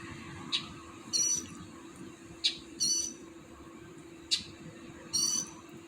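A bird calling at 10pm at night, repeating in pairs: a short sharp note, then a longer high call. The pairs come roughly every two seconds over a constant low hum.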